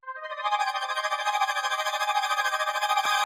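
Rapper-style melodic sample played through a fast tremolo preset with a low cut, a bright sustained chord pulsing rapidly and evenly for about three seconds before stopping abruptly.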